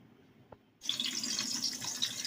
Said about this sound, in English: So now I'm going to add some water.